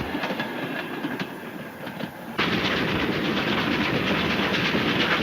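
A train runs on rails with a steady rumble and clickety-clack rattle. It is moderately loud and grows fuller and denser about halfway through, with no voices.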